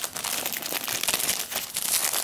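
Plastic shrink wrap being peeled and torn off a Gears of War: Judgment game case, a continuous close, loud crinkling and crackling.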